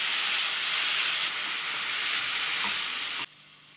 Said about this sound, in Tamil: இதையும் சேர்த்து நல்லா வதக்கிக்கோங்க.